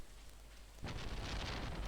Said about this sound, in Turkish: Üf, ne şimşek çaktı be.